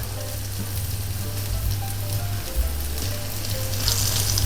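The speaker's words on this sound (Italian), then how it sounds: "fino a quando il guanciale rosola va benissimo, ma controllatelo." Steady, lively sizzle and crackle of guanciale browning in a pan for amatriciana, close and continuous with a low hum beneath and no talking.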